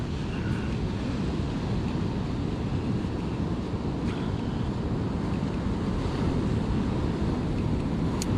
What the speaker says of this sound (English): Nice waves there.